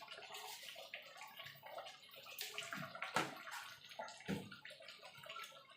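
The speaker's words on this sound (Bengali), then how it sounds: "এবার বাটিটা ধুয়ে দিয়ে দেবো জল।" Water runs and splashes as a bowl is rinsed and its water is poured into a cooking pot of gondhoraj lemon chilli chicken, a steady sloshing flow with a few louder splashes and no voices.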